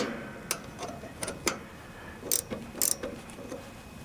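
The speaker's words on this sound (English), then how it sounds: "Got a 3/8 wrench. You just want to take off each side here." Metallic clicks and ratcheting ticks from a 3/8 wrench loosening bolts on the locked-up brake of an MTD Craftsman riding lawnmower, a handful of short sharp bursts, close and fairly quiet.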